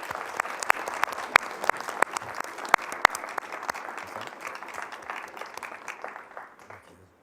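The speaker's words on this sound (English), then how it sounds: "One round of applause for everybody who got an award tonight." Audience applause for award recipients at a fire protection district board meeting, a moderate room of clapping with distinct sharp claps standing out, gradually thinning and fading away at the end.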